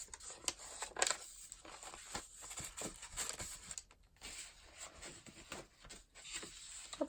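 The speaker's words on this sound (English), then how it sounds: "fold some more tea stain paper." Tea-stained paper being handled and folded at a craft table, with soft rustling, rubbing and creasing sounds that come in irregular bursts and pauses, quiet and close.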